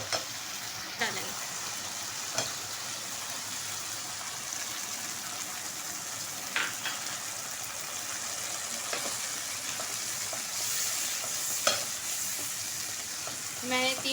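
Yogurt stirred into a ready onion-tomato gravy for arbi (taro root) curry, with oil risen to the surface, bubbles in a pan: a steady low sizzle with occasional clicks of a spoon, no talking.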